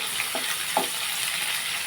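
Onion pieces frying in hot oil in a pan for a home-cooked lunch, giving a steady soft sizzle with a couple of brief crackling bursts near the start, close and fairly quiet, with no talking.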